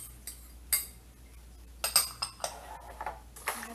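A spoon clinks and scrapes around a bowl as garlic, black pepper and salt are mixed, with light irregular taps and clatters, close and fairly quiet.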